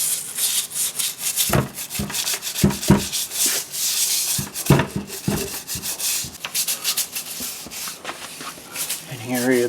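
A brush scrubs tile grout by hand in the corners, giving rough, irregular strokes with sharp knocks between them and occasional talk over the work.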